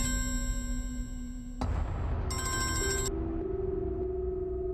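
A telephone rings with a bright electronic ringtone, pausing briefly and then resuming its repeating tone; no one speaks.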